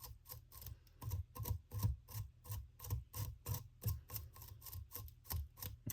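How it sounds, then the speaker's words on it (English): A coarse wire brush scrubbing out a dubbing loop head on a baitfish fly, a steady run of quick, close rasping strokes about three per second, crisp and quiet with no talking. "You can even use a, coarser wire brush to really get it brushed out."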